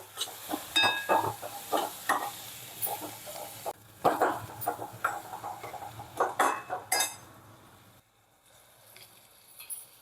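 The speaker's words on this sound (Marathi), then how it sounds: "आता हे चांगलं मिक्स करून घ्यायचं" Homemade masala and shahi garam masala being stirred into a pan of Turichi Bhaji, a village-style pigeon pea pod vegetable dish: close, repeated scraping and clinking of a spoon against the pan with a soft sizzle beneath, pausing briefly near the end.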